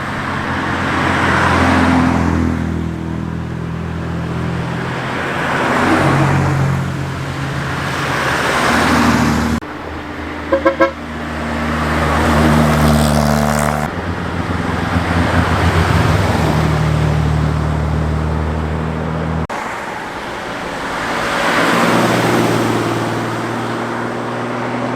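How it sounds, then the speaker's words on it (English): Classic Austin Healey 3000 sports cars and other models on a club run roll past on a road, a steady stream of engines swelling and fading as each group passes, loud and close, with a short clatter near the middle. "there's been about 50 plus Austin Healey 3000s and other models going past today"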